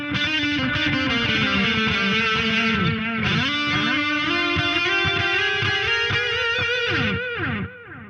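Distorted electric guitar played through a Harley Benton DNAfx effects unit patch with reverb, sustained chords and ringing notes at steady loudness with a washy tail before fading near the end.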